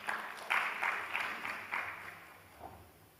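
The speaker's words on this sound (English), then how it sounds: "Can you give a clap?" Audience applause at a fintech panel during a Nairobi tech week event, a fairly faint spread of clapping with a few stronger bursts that tapers off over a few seconds.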